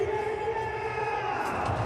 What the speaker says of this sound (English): Crowd still here.